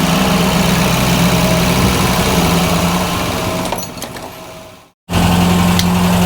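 Ford Fiesta Mk1 Ghia 1.1 barn find engine running loud and steady up close, then dipping and cutting out briefly before catching again and settling back into a rough idle.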